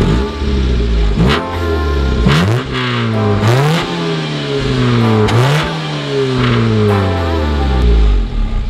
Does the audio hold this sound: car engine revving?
yes